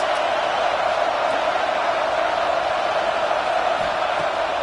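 Dense, steady roar of a football stadium crowd cheering the defense on a big third down in the red zone, a sustained wash of many voices with no pauses or distinct words.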